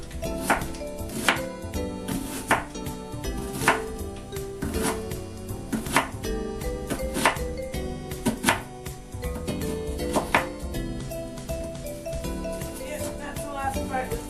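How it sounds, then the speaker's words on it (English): Knife chopping onion into small pieces on a board while quinoa salad is prepared, sharp repeated cuts at an uneven rhythm, close and fairly loud over steady background music. "chop down the little pieces"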